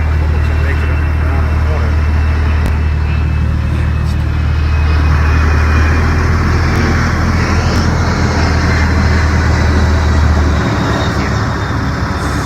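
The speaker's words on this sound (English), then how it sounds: "There's an airplane flying." An airplane flies overhead near an airport, a steady loud broadband roar and rumble that holds without a break, with a low drone underneath that drops away near the end.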